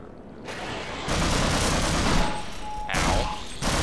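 Rifle fire in the Half-Life game comes as dense, continuous rapid shots, loud and close, with sustained bursts that shift in intensity and a brief tonal ring partway through.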